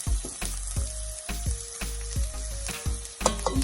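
Onion and garlic frying in a pan for a Jamaican coconut rundown, a steady close sizzle broken by sharp clatters and knocks of ingredients and utensils being set down.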